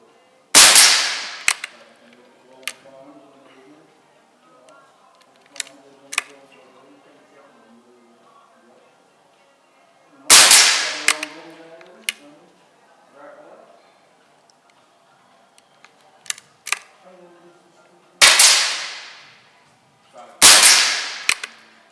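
Air rifle pellet shots crack out one at a time with long quiet gaps between them, each a sharp, loud report with a short ringing tail, about four in all, with faint movement noises in the pauses.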